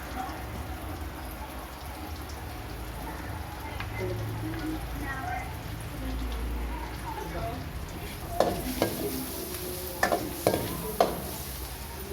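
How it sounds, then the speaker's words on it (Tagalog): Garlic sautéing in a pan, a steady soft sizzle running throughout, with a few sharper spoon clinks and scrapes near the end. "Ilagay na natin yung mga kasimula, bawang. Gigisa na natin siya."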